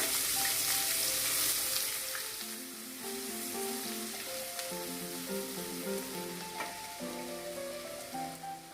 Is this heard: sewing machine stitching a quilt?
no